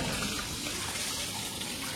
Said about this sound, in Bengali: জল উঠছে এখন।